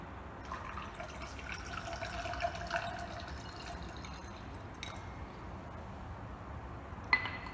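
Water poured into a container in a physics lab, a faint steady trickling and filling sound with light drips and a soft clink near the end.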